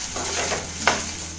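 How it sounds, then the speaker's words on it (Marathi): Okra sizzles as it roasts in a kadhai, a soft continuous fry with light stirring scrapes and one sharper utensil scrape against the pan near the end. "सगळ्यात आधी एकदम छानपैकी अशी भेंडी आपण भाजून घेऊया."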